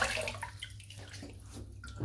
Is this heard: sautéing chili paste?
no